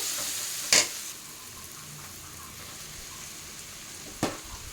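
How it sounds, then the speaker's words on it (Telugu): Rice is stirred into chili powder frying in oil, giving a quiet, even sizzle with two sharper scraping clatters from the spoon, near and with no voices. "ఒక 2 నిమిషాలు కారం నూనెలో వేగిన తర్వాత రైస్ వేసుకోవాలి"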